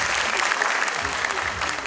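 A hall audience claps throughout, a steady, dense wash of many hands that holds at a constant level from start to finish with a voice faintly underneath.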